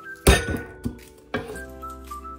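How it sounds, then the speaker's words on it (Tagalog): A knife strikes a cutting board while garlic is chopped, three distinct knocks with a clinking ring, the first loudest, then fading room tone. "Maghiwa tayo ng bawang para sa mga aswang."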